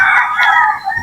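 A rooster at a farm hut lets out a single loud, close crow in a brief burst, with no voices present.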